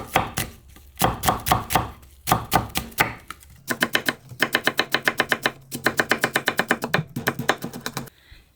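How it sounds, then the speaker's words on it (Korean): A knife slices an apple into thin strips on a cutting board, chopping rapidly and rhythmically in quick bursts of sharp, crisp taps with short pauses between runs. "사과도 얄팡얄팡하게 썰어주세요. 채를 썰어주세요."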